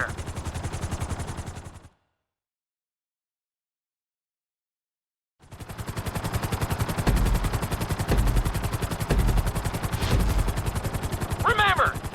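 Helicopter rotor in the game Grand Theft Auto 5 chops rapidly and steadily, cut to silence for a few seconds before resuming loud with sharp impacts and a brief higher tone layered over it.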